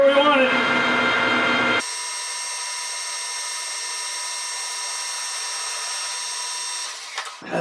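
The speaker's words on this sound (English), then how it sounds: "Get our hole drilled in there." Drilling a hole on a PM 1440TL metal lathe running at about 250 RPM: a steady, even machine whine with a tonal hum that holds for several seconds after a brief voice at the start.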